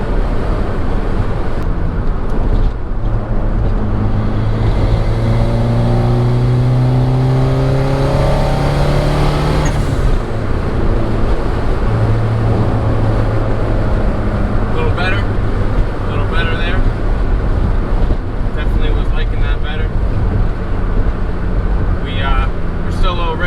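Turbocharged Honda Accord accelerating hard, the engine note climbing steadily through the gears with a rising drone, a brief drop at a shift, then pulling again, loud and close from inside the car with a voice speaking over it.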